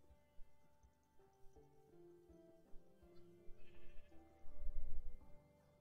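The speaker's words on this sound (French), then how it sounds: "Alors, viens ici, petit mouton." Sheep in the Minecraft video game bleat several times, the calls growing louder and denser toward the end, layered over soft in-game background music.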